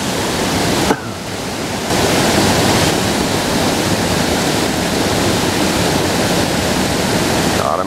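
A small waterfall pours steadily in a bass-fishing spot, a loud, close, broadband rush of falling water that runs continuously, with a brief handling bump near the start.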